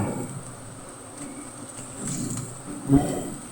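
A swarm of honeybees leaves the hive with a steady, dense buzzing drone close by. The hum swells slightly, and a brief louder bump comes near the end.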